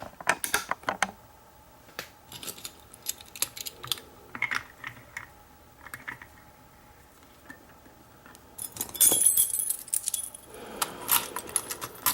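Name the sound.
key turning in clear rim cylinder lock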